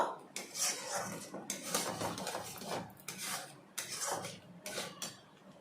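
A pot of thickened milk lifted off a stove, with clattering metal knocks, scrapes and rubbing of cookware in short uneven bursts close by.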